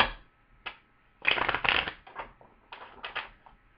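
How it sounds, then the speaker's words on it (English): Tarot cards being shuffled in quick bursts of riffling and sliding, close up, with brief pauses between. "Let's give these a bit of a shuffle and a bit of a mingle."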